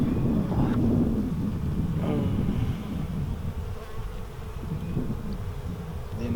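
Honey bees swarm and buzz over an opened hive during a spring inspection, a dense, steady drone close to the microphone with light wind noise.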